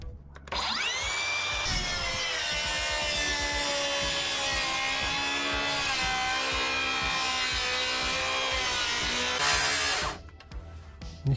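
Makita XGT cordless circular saw cutting along a 1.5 m Makita straight-edge guide rail, a loud steady high whine running for about nine seconds after spin-up, then winding down, with no talking.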